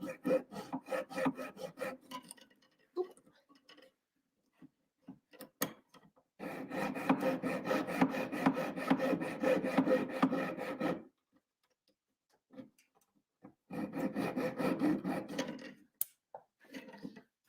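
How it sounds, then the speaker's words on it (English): A jeweler's saw blade cuts through metal jump rings in close, rhythmic rasping strokes, coming in three bursts separated by short pauses, with no talking. "And I'm sawing like so."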